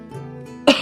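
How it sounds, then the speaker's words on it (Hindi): An old man coughs in a dramatized horror story, a faint throaty rumble followed by one sharp, close cough at the end. "वो बूढ़ा खांसते हुए कहता है,"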